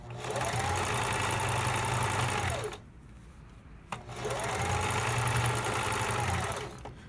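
A sewing machine stitches the sole onto a fabric bootie in two long steady runs of motor whir with a short pause between, loud and close, with no talk.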